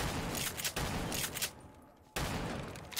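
Winchester rifle fire in Black Ops 3 Zombies, sharp loud cracks in quick succession with a short lull before the shooting resumes, over busy game ambience.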